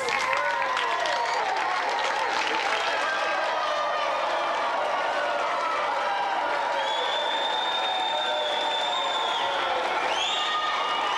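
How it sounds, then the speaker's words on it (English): A TV game-show studio audience applauds steadily and fairly loudly for several seconds, with scattered cheers and whistles rising above the clapping. "give him a round of applause"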